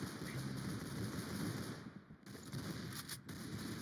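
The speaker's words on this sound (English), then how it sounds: "I'm hearing gunshots over here" Rapid bursts of gunfire from a Roblox shooter game crackle in dense, continuous volleys, fairly distant and muffled, with a brief lull partway through.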